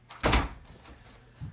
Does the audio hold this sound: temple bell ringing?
no